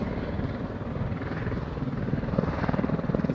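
A tour helicopter over the Na Pali coast of Kauai thumps and whirs nearby, its rotor producing a steady, pulsing chop that grows slightly louder toward the end.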